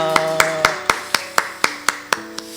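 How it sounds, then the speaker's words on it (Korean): A church congregation gives slow, evenly spaced handclaps, about ten in a row, ringing out close by over a sustained musical tone. "우리 하나님께 영광의 박수 올려드리겠습니다."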